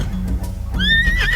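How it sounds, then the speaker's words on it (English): A horse gives a single loud, close whinny that rises and wavers, preceded by low snorting and shuffling sounds. "A horse neighes."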